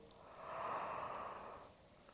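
A single long, breathy yawn during a relaxing floor exercise, swelling and fading over about two seconds in a quiet room.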